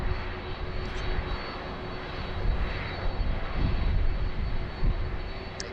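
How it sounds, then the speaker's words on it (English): A Boeing 767-300 with CF6 jet engines rumbles on wet tarmac in heavy rain and wind, a broad, steady roar with swelling surges, heard from a distance and without talk. "It's always good to hear the beautiful sound of these CF6s, particularly with the wet tarmac there."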